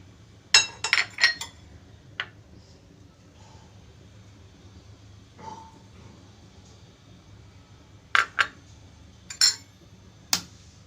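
Ingredients for an eggplant bharta being mixed in a bowl, with sharp clinks of a utensil against the bowl in short clusters separated by quiet stretches, close and fairly loud.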